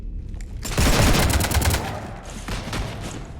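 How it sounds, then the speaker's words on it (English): Gunfire rakes a ship in the Mass Effect video game. A dense, loud burst of rapid automatic shots builds and then tapers off, followed by a few scattered shots toward the end, with no speech over it. "You want to stop shooting up my ship?"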